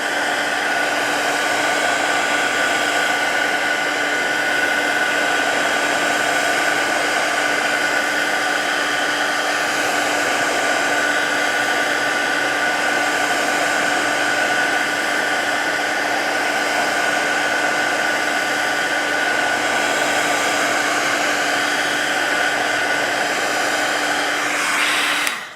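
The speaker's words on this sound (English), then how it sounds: "I'm gonna hit this with my heat tool. Just to speed along the drying process." Heat tool blowing hot air to dry watercolor Distress Oxide ink, a steady loud whirring hiss running unbroken for the whole stretch and cutting off at the very end.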